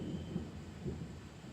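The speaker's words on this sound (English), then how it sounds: "once the storm system passes" Low, soft rumbles of thunder from a passing storm roll faintly in the distance, with two or three muffled swells over a quiet background.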